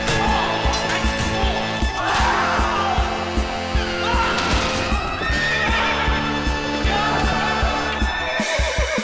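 A horse whinnies repeatedly over a steady, rhythmic clip-clop of galloping hooves, close and loud.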